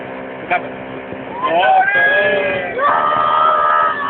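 A motorboat engine runs steadily with shifting tonal whine, accompanied by loud voices and shouting nearby throughout.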